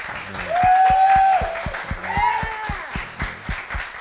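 Steady applause from a conference audience fills the space while a voice calls out over it, with rhythmic clapping continuing throughout.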